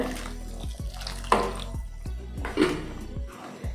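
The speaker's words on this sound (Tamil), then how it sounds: "நான் எக்ஸ்ட்ரா 1 டம்ளர் ஆட் பண்ணுறேன் தண்ணியை." Water poured from a tumbler into a pan of thick onion masala with gram flour cooking for a chapathi side dish, a continuous splashing pour with faint clinks of pan and utensils, close and fairly quiet, no voices.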